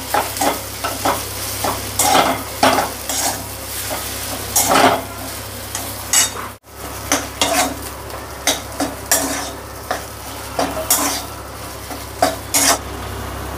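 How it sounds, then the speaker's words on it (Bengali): A spoon stirs spiced potato filling for vegetarian Kolkata-style aloo chop in a frying pan, scraping in repeated rhythmic strokes over a steady close sizzle. "তো এটাও ভালো মতো নেড়ে নেব মশলার সাথে।"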